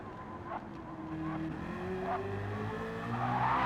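Race car in a racing video game spinning its rear wheels on a wet hairpin exit, with the engine revving and a tire squeal rising over a steady, close motor drone.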